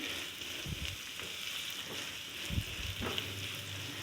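Sliced onions softening in a pan for chicken paratha give a steady, soft sizzle with a few faint clinks and stirring bumps, heard close and alone.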